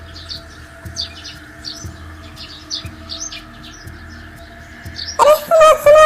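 Cartoon bird chirping while flying through a jungle, repeated short tweets over a soft rhythmic background music bed, ending in a louder burst of warbling calls.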